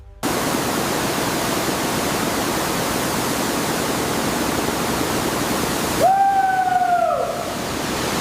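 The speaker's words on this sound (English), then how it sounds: "Our clean water systems activate automatically" Water from an automatic clean-water system on a buffalo farm rushes continuously as a loud, broadband hiss. Near the end a rising tone briefly sweeps in and then fades.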